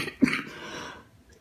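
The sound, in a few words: hacking cough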